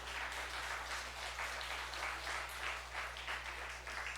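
A church congregation claps together during a Sunday sermon, producing a sustained, even patter of many hands heard from a distance that continues for around four seconds without talk.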